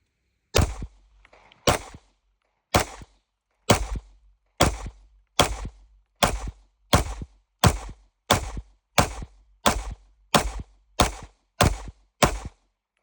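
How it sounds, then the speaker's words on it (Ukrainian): A steady series of about fourteen sharp one-handed shots from a Fort 20 9x19mm pistol, evenly spaced roughly a second apart, loud and close with no talking. "Стріляємо з однієї руки Форб 20 9 на 19."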